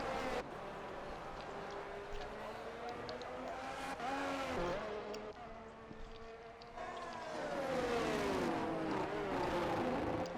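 Alfa Romeo race car in a racing video game crossing the finish line, a steady engine drone with rising and falling pitch and a louder swell near the end, commentary talk running over it.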